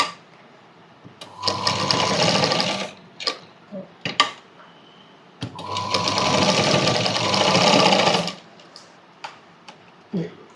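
A sewing machine stitches a cross-cut blouse in two long bursts of rapid, steady whirring close by. Short ticks and handling clicks come between the bursts, and a voice speaks briefly.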